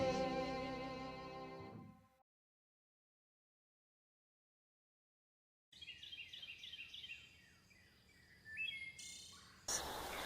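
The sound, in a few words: birds singing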